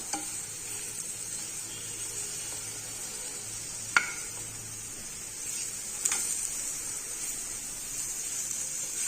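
Sweet potato sautéing with garlic and pepper in a pan gives a steady soft sizzle and hiss, with two sharp ladle clinks against the pan a couple of seconds apart, close but fairly quiet.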